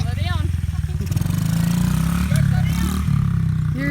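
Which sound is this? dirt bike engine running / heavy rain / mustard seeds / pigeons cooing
dirt bike engine running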